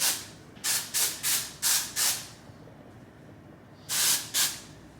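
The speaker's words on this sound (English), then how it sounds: "I'm gonna use just a little bit of dry shampoo." Amika dry shampoo sprays from an aerosol can in seven short hissing bursts: five quick ones in a row, a pause, then two more, close and fairly loud.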